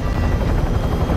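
A helicopter in the video game Call of Duty: Warzone gives a loud, steady rotor drone with a low, throbbing chop. The sound is continuous and close for the whole clip, with no talk over it.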